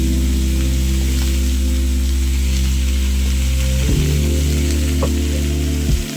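Eggplant and onion hit hot oil with a steady, loud sizzle that fills the whole stretch, a low hum underneath and a brief clatter near the end. Nobody speaks.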